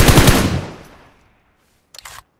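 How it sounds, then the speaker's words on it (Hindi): Machine gun fire in PUBG, a loud close burst of rapid shots that fades into a decaying tail, followed by a short, quieter rattle of a few more shots. "अंधाधुन गोली का फायर किया उसने"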